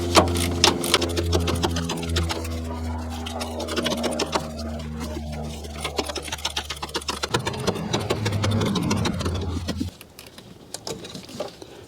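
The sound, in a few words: loosening alternator belt adjuster bolt on long threaded rod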